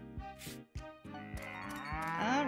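Cattle in the farming game Story of Seasons: Pioneers of Olive Town moo several times in quick succession, loud, close and overlapping, with a longer drawn-out moo rising at the end.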